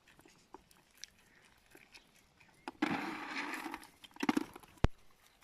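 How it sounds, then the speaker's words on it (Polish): Close crunching and chewing sounds of deer in bursts, with soft rustling and a sharp click near the end. "Teraz one gryzą to."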